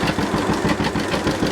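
An old John Deere G tractor engine running steadily at idle, a loud, close, rhythmic two-cylinder chugging with even pulses and no talk.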